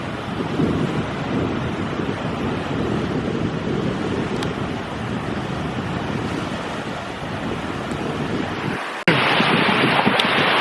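Ocean waves and gusty wind at Fort Myers beach make a loud, continuous roar of surf and buffeting air across the microphone, briefly cutting out near the end before resuming.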